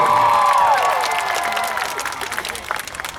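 A large crowd at a birthday surprise gathering claps and cheers, starting loud with a voice over it and then thinning into scattered, fading applause.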